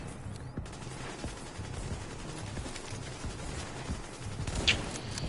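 Rapid gunfire in a PS4 survival PVP extraction shooter game, a dense continuous rattle of shots with a sharper crack near the end, no talk.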